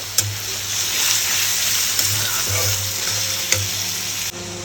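Chicken pieces sizzle steadily in a pan while being stirred, a continuous close frying hiss with occasional scrape clicks and no talk.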